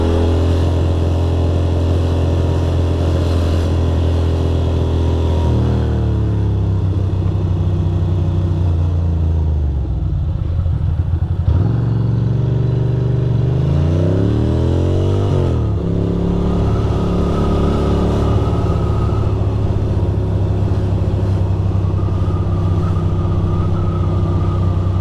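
Ducati Monster 620 motorcycle engine while riding on city streets: a loud, steady rumble that swells and sags as the throttle changes, with rising rev sweeps in the middle and no talk.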